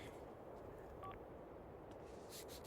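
A Sim uses her phone in The Sims 4, giving a brief pair of faint beeping button tones midway through, set against a quiet, steady game background.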